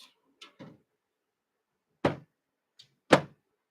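The hinged door of a Bambu H2S 3D printer is handled in a quiet room, giving a few light taps and then two sharp, close knocks as it swings and shuts.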